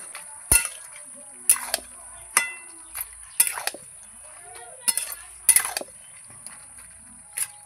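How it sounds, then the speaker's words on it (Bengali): Cabbage with sugar stirred in a cooking pot: a series of sharp utensil scrapes and clinks against the pot at irregular intervals, about seven distinct strokes, close and moderately loud with quiet gaps between. "এবার আমি এটাকে ভালো করে নাড়াবো।"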